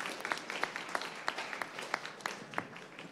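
A small audience at a start-up pitch event applauds, scattered individual claps standing out sharply over a soft, steady bed of clapping, fairly quiet and without talk.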